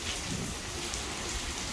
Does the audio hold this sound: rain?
yes